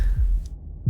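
A video game heartbeat effect gives one low thump near the start and another at the very end, muffled and deep over a soft hum, with no voices.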